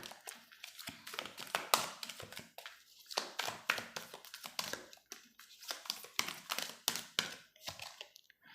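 Tarot cards are shuffled and handled up close, a dense run of soft taps, flicks and papery riffles with brief gaps between them, quiet and with no speech.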